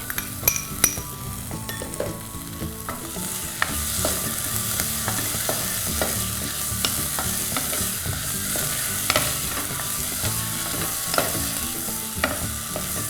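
Tomato frying in a pan for Udupi sambar, stirred steadily with a metal spoon: constant soft sizzle under repeated clinks and scrapes against the pan, close and without talk.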